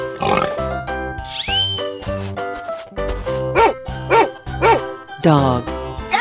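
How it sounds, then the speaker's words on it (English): A cartoonish dog barks in a 3D animal slide game, a few loud yelps mixed with pig grunts and other animal calls over upbeat game music, close and punchy. "Dog."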